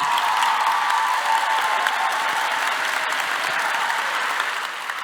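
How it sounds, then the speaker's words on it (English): Sustained loud applause from an audience at a medical school declaration ceremony, dense continuous clapping throughout that tapers slightly at the end, with faint crowd noise beneath. "Please give a round of applause to your families."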